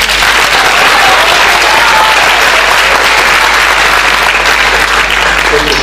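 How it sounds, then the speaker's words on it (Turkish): Audience at a Turkish art music concert by a university culture club applauding, a loud, dense wash of steady clapping that fills the whole stretch without a break. "Alkışlarım için."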